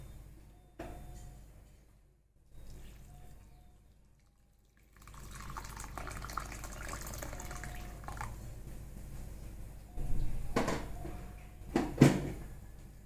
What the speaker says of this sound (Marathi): यात आपण आता गरम पाणी टाकूया.